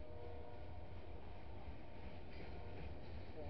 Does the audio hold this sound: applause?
no